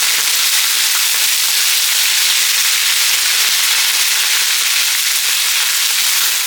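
Fenugreek, dried red chillies and curry leaves splutter in hot oil while pickle is made, a dense, steady sizzling hiss with scattered crackles throughout and no talking.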